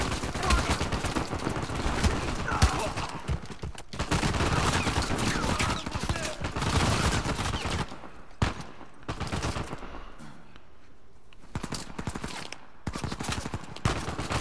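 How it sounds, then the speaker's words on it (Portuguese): Rapid video-game gunfire from Uncharted 4 crackles almost continuously in loud bursts with brief gaps. Panicked voices shout over the shooting. "Atira nele!"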